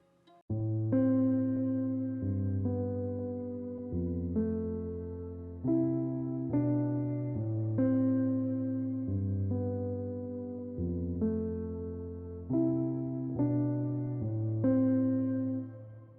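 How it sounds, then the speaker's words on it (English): A piano plays a slow, sustained melody over chords, notes ringing out clearly and evenly with no voices. "I wrote a piano for this vocal and it sounds like this."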